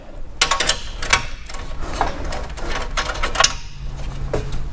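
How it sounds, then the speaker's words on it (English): A ratchet wrench clicks in quick, uneven runs while tightening a bolt during a Ford Bronco Slipstream install, close and crisp, with short pauses between bursts. "Then I go back in with my wrench"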